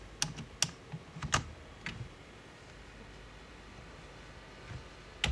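Typing on a computer keyboard, a handful of sharp, close key clicks in quick irregular bursts early on, then a pause before a final couple of taps over a quiet room hiss.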